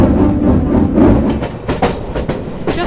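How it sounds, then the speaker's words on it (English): Cartoon steam engine on rails pulling away, rumbling chuffs and rhythmic clattering up close over about three seconds, with sharper puffs toward the end. "And with that, he puffed away."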